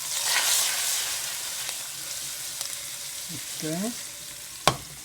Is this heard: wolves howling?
no